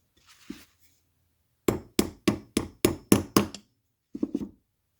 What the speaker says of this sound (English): Just give that a couple taps with a hammer and I'll set that pin.